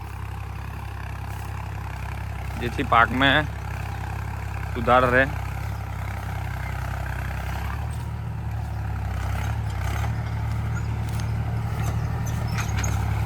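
A modified tractor engine idles with a steady low rumble throughout on a farm field, while a person speaks briefly over it.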